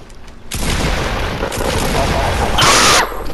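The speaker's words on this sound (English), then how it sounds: "just let me shoot you with my pump" A pump shotgun blasts loud and close in a video game battle, a heavy boom with a sharp, bright tail that cuts off near the end, after a quieter start.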